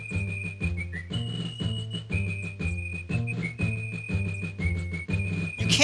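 Tuneful whistling in King's Quest V rides over a bouncy game music track, a bright sustained line repeating phrase after phrase for about six seconds with no talking.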